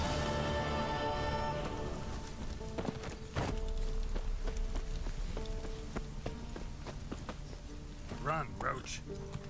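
A horse galloping in The Witcher 3 video game pounds out quick hoofbeats against swelling game music, with a short neigh near the end and speech-like game sound mixed in.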